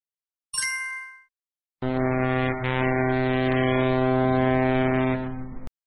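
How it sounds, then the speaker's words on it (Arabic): After a brief chime, a deep, loud, sustained ship horn blasts steadily for several seconds, rich and droning, with no voices. "سفينة"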